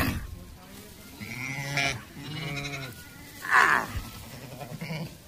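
Sheep, including young lambs, bleat close by in several wavering calls, one after another, with a louder cry near the end and faint background noise between them.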